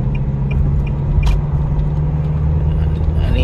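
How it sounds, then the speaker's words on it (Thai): A car fitted with an electric throttle controller, running on the factory stock throttle setting, accelerates under heavy pedal with a steady, loud engine drone and road rumble throughout. A voice speaks over it. "เดี๋ยวเราจะออกขวาแล้วก็กดคันเร่งนะฮะ"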